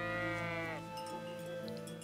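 A sheep bleats once in the video game Kingdom Come Deliverance, a close, drawn-out, wavering call lasting under a second, followed by quiet ambient game sound.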